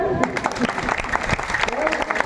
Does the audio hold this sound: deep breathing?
no